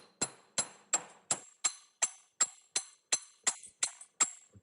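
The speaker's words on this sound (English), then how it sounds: "Hammer it flat. I flip it over and hammer it from the other side as well" A metal hammer strikes a thick jewelry piece on a hard block to flatten it, eleven sharp ringing clinks in a steady, even rhythm, close and clear with nothing else heard.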